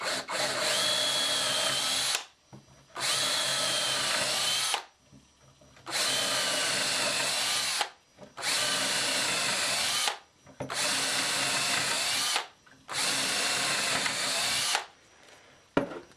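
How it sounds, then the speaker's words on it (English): A power drill bores six holes into wood one after another, each burst loud and close, with short pauses between them and no talking. "So just come on with my holes and drill all 6 of them here."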